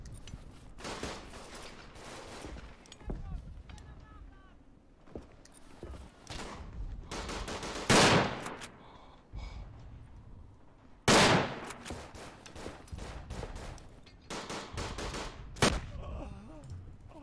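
Gunfire in the trench warfare game Verdun, sharp rifle and machine-gun shots in irregular clusters, some very loud and close, others distant crackles, over a low battlefield rumble.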